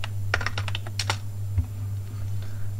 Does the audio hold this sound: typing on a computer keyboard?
yes